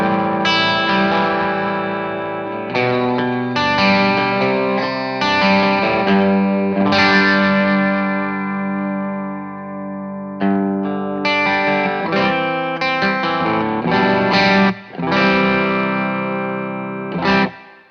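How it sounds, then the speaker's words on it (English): Electric guitar played through an MXR Duke of Tone overdrive pedal set fairly clean, ringing sustained chords and single notes with mild crunch and reverb, phrases separated by short pauses, with no talk. "So this is the Duke, a little bit cleaner."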